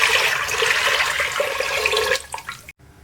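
Water gushing steadily from a container into a pressure cooker before mustard greens go in, a close, full splashing pour lasting about two seconds before it trails off into a few drips and quiet.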